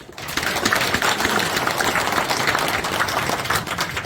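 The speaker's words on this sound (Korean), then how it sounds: "감사와 응원의 뜨거운 박수 부탁드립니다" Audience applause for the incoming president at an arts federation inauguration ceremony, a dense steady wash of many hands clapping throughout at an even level, fairly close, with no talk over it.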